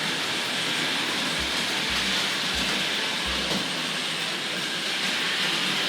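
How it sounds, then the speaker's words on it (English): A small Hornby Dublo model tank locomotive runs around a layout track, giving a steady, even whirring rumble with a few soft low rhythmic clicks from the rail joints, and no one speaks. "So we'll just take the opportunity to run this little tank loco around."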